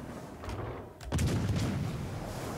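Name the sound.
battleship gunfire in World of Warships Legends video game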